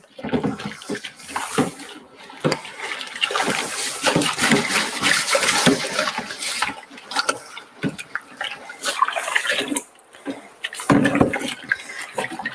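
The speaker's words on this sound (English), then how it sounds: "let's just give this a little rinse off, because I need this nice bowl of hot water." Hot water runs from a tap into a bowl while it is rinsed, a continuous splashing gush that swells and dips, with brief gaps and sloshes near the end.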